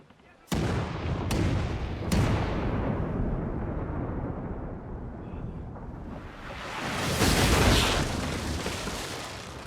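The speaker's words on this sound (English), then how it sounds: "your cannoneers fire a deafening volley at the opposing ship" Ship cannons fire a volley in the video game Pillars of Eternity II: Deadfire: three loud, sharp booms in quick succession, then a heavy rolling rumble that swells again near the end.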